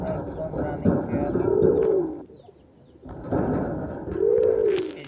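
A breeding pair of pigeons coos nearby in two long rising-and-falling phrases separated by a brief pause, steady and clear against soft background noise.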